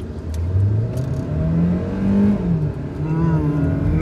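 A Ford Endeavour 3.2 and a Hyundai Creta 1.4 turbo accelerate hard in a drag race, engines revving and rising in pitch through the gears, loud and close, with a brief dip between pulls.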